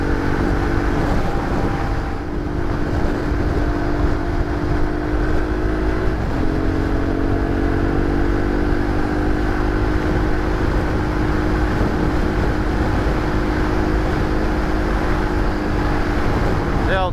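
Motorcycle on motocross tyres with unbalanced wheels cruising along an old highway, a steady engine drone and wind roar throughout, with a brief shift in pitch midway.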